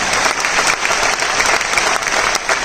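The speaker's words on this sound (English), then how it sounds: "Please clap for them." Dense, steady audience applause fills a hall at a song launch event, many hands clapping loudly and continuously with no pauses.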